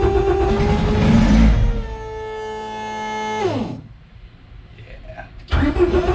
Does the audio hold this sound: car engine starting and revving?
yes